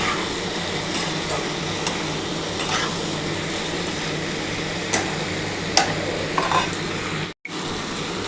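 Cabbage with masala being sautéed in a pan, giving a dense continuous sizzle with occasional soft scrapes and taps of a stirring spoon, close and alone.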